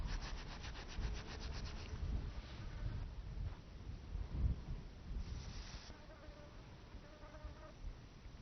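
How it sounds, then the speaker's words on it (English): Dry Paiute Indian rice seeds rubbed by hand to strip their husks, a close, continuous scratchy rustling with gritty friction bursts that swell and fade in uneven waves, heard alone without talk. "You can rub the husk off it, and you'll see the little black seeds."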